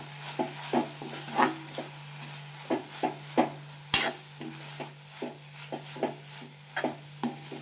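Ivy gourd fried with chili powder in a pan, stirred with rhythmic scraping strokes over a steady low sizzle; the strokes come close and fairly loud, with one sharp knock near the middle, and no talking.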